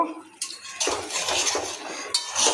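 Metal utensil stirring and scraping in a pan of egg omelette curry after ghee and garam masala powder go in, a few clinks and steady scraping strokes up close with no talk.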